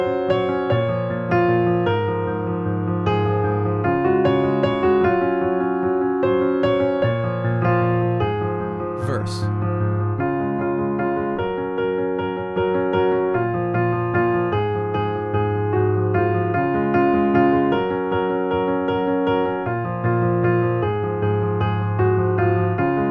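Intro of a song played on piano, steady sustained chords and melody ringing out clearly and evenly with no talking over it.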